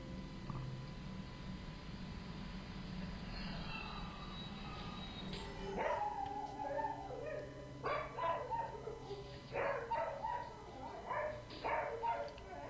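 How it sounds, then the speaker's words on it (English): A family dog barks repeatedly and excitedly at home, heard through surveillance camera audio: a burst of barks and yips follows a hissy stretch of background noise, with faint voices mixed in. "And the family dog just goes nuts."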